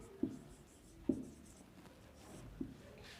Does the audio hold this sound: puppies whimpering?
no